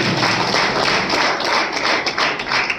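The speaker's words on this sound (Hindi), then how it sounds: "अपने लिए जोरदार ताली बजाइए" A seated audience at a fitness talk claps loudly and continuously, a dense wash of applause holding steady throughout.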